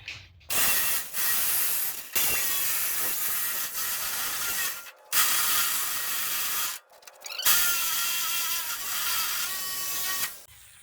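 A power tool, likely an angle grinder, cuts through 5-inch steel channel on a trailer frame, giving loud, sustained high-pitched grinding in several long passes separated by brief pauses.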